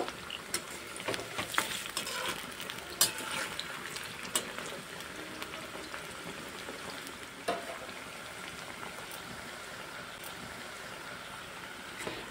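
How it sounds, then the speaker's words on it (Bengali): Cabbage pakoras fry in hot oil with a continuous close sizzle and bubbling, broken by occasional sharper pops and spatters. "এখানে লাল লাল করে ভেজে নিয়েছি পাকোড়াগুলো"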